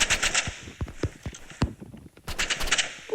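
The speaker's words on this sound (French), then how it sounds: "Mais c'est puissant le fusil d'assaut." Rapid assault rifle gunfire in the online shooter game Rivals, sharp bursts of shots in short clusters with brief gaps, loud and close.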